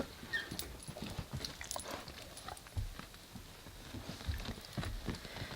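Dogs come back indoors through a door, producing scattered paw taps, scuffles and soft knocks nearby over a quiet room background.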